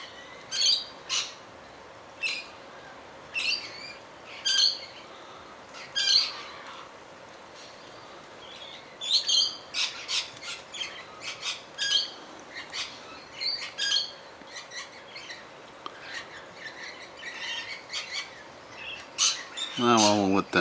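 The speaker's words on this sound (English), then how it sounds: "What's it up to, this bird?" Wild birds at Loch Sport in Victoria, Australia, squawk and chirp in repeated bursts while being fed, some calls close and loud, with a steady low hum and a rising mechanical whine near the end.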